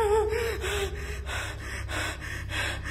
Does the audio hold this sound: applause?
no